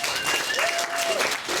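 A workshop audience claps for Little Woo at Tribe Space, a short burst of brisk, steady applause filling the room, with a voice briefly audible over the clapping.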